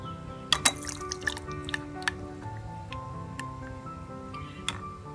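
Carrot beetroot soup is poured through a strainer, with soft dripping and trickling plus a few sharp ticks of the utensils, close and fairly quiet, with no talking.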